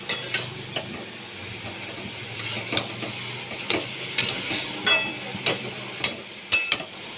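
Spoon stirring cumin- and coriander-spiced cabbage in a pan for a vegetarian dish, with repeated scraping and clinking strokes over a soft sizzle, close and moderately loud, no talking.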